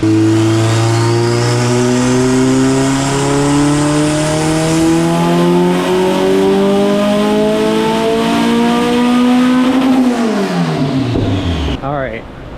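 A turbocharged non-VTEC Honda B18B1 engine on a dyno pulls through a long, loud, rising rev sweep, then drops off sharply as the throttle closes, with a burbling wind-down at the end.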